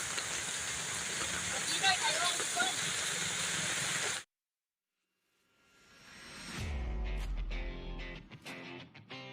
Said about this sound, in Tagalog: Ang laki ng ulan no.